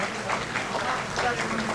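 A crowd at a Millat Foundation Jodhpur student ceremony gives a round of applause as a student's name is called, steady clapping at moderate level with voices mixed in underneath.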